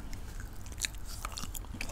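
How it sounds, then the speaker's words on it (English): Gum chewing close to the microphone in an ASMR setting, with a run of moist, sticky clicks and smacks at an uneven pace, intimate and fairly soft, with no speech. "a bit of gum chewing and tap, tap, tap, tap, tap, tap, tapping."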